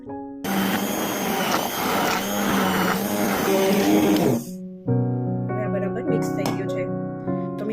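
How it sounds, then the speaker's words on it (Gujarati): An electric blender whirs loudly and steadily as it mixes khandvi batter of yogurt, turmeric and a little lemon juice, then cuts off and a quieter tonal hum with clicks follows. "પછી બધું બ્લેન્ડરથી મિક્સ કરી લેશું"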